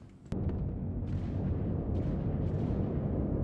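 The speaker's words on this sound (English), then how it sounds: "Wow, the missile PDC is shooting the missile turret of the station." In a space video game, a missile point-defense cannon fires on a station's missile turret, a sharp crack followed by a loud, sustained rumbling barrage with a few sharper bursts rising over it.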